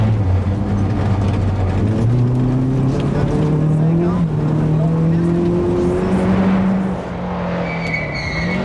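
A powerful Porsche rally car charges along a snowy rally stage, its engine droning loud and close as the revs climb through gear changes before easing off near the end.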